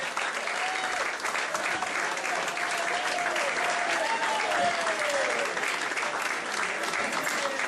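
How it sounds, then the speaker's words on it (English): A crowd at a football club's end-of-season presentation applauds the club's volunteers with sustained, dense clapping that holds steady, with a few voices and whistles rising faintly beneath it. "Let's give a big round of applause to all the volunteers that make this football club a great success."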